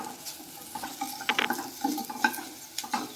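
Okra fries in a village-style pan, stirred briskly: scraping and light clatter from the spatula over a continuous sizzle, up close with no voices.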